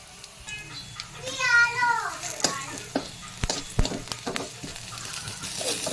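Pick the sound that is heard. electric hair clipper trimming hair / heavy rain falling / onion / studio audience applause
onion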